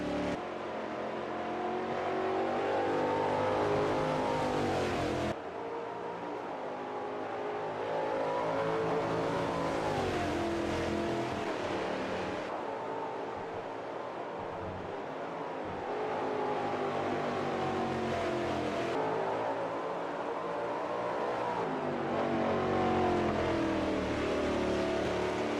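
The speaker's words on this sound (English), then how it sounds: "Just a wonderful sound. These big stock cars." Big 2019 stock car V8 engines race at Watkins Glen in Automobilista 2, roaring loud and steady with rising and falling pitch through gear changes as cars pass in sequence, no talk over them.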